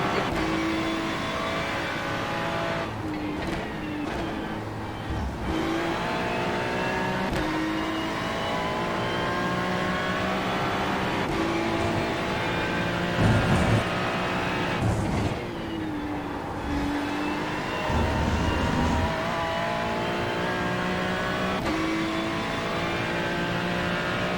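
Race car engines in the iRacing sim during a road race chasing a Porsche, a continuous loud droning roar with rising and falling revs and gear shifts throughout, with no talking.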